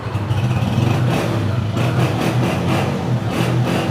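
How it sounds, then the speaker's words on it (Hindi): A 2022 Honda 125 motorcycle engine idling and revving nearby, a steady throbbing rumble with a few pulses of throttle, no talking. "अच्छी नॉक में इंजन बोल रहे हैं दोस्तों"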